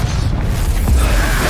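The Confringo fire spell explodes in the Hogwarts Legacy video game as a loud, close, rumbling boom that fills the whole short moment with a dense blast.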